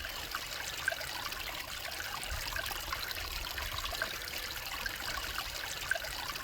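Cold stream water trickling steadily at a rest spot on a backpacking hike, a faint continuous babble with no voices.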